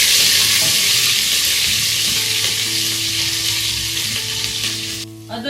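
Crushed ginger and green chili frying in hot oil for a pumpkin sabzi, a steady close sizzle and crackle with occasional stirring, no voices.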